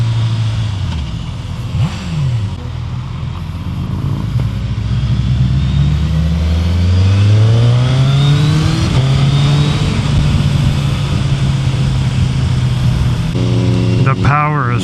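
A Suzuki Hayabusa motorcycle engine revs and accelerates hard while being ridden, its pitch sweeping up through the gears with a steady loud roar, and a rider talks over it.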